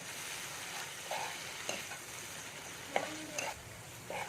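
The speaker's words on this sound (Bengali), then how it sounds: "দিয়ে এবার ভালো করে মশলাটা আমি কষিয়ে নেবো" Spice paste being stir-fried in a pan for a vegetarian potato dish, water added so it won't burn: soft, steady sizzle broken by several scraping stirs of the spatula, close by, with no talking.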